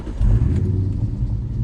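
A Mustang 4.6 V8 fitted with a Borla H pipe catches and settles into a deep, loud idle, a close, rumbling low burble that stays steady after the initial start.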